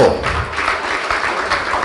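An audience at a stand-up comedy show applauds in a short, dense burst of clapping that stays fairly loud and even for just under two seconds.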